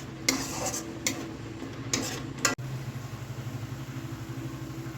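Jackfruit curry is stirred with spices in a pan over low heat: a few soft scraping strokes of a spoon against the pan at irregular moments, quiet and close, with no talking.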